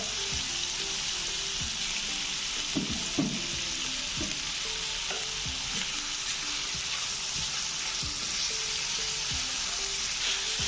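Chicken pieces sizzle steadily in a hot pan, a bright continuous hiss broken by scraping stirs and clinks of a utensil, close and without talking.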